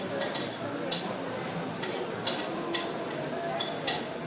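Bacon frying in a pan, a steady soft sizzle with occasional light clicks of a utensil against the pan, fairly quiet and with no talking.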